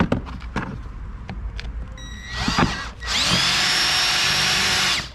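A power drill bores through metal on a 2019 Ford Transit, with light taps and clicks first, then the motor spins up to a loud, steady high-pitched whine that runs for about two seconds before cutting off.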